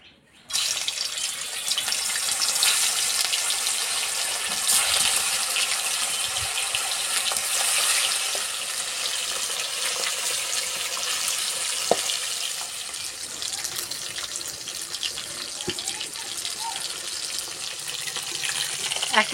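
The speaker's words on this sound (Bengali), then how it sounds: "তেল গরম হয়ে গেছে, মাছ দিয়ে দেবো।" Silver fish fry in hot mustard oil in a wok, giving a long, even, close hiss of sizzling oil with scattered small pops and crackles throughout.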